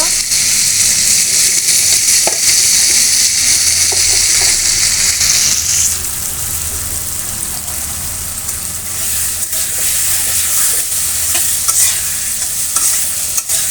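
Okra goes into masala sizzling loudly in a pan alongside fish, with a steady close frying hiss and continuous stirring scrapes throughout.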